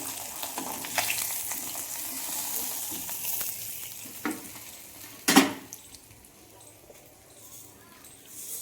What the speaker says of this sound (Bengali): কালো জিরে কাঁচা লঙ্কা ফোড়ন দেবো